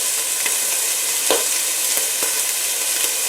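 Green onions sauté in a hot pan with chickpeas and collards in progress, making a loud, dense sizzle with a few faint spatula taps and pops, close and steady, with no talk.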